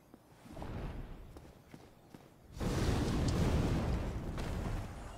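A dragon breathes fire on a castle bridge in Dark Souls: a steady, loud roaring whoosh of flame surges in partway through and sustains, after quieter scattered footsteps and thuds.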